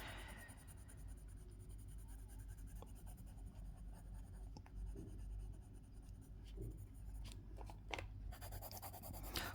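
A pencil draws musical notes on paper, making soft, close scratching strokes in short irregular bursts over a faint steady background hum.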